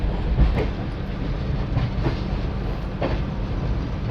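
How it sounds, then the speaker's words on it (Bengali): The Chambal Express from Howrah to Agra Cantonment runs steadily on the rails after leaving Gaya, a continuous low rumble with a few faint clickety-clack wheel beats, heard from inside the carriage. "গয়া থেকে ট্রেন ছেড়ে দিয়েছে"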